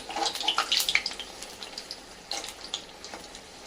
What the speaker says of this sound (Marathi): आपले भजे कसं मस्त ब्राऊन कलर येईपर्यंत तळून घ्यायचे